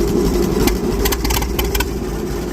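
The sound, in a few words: McCormick-Deering 10-20 tractor engine running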